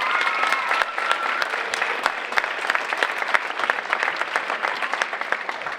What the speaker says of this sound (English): All of your students clapped for you.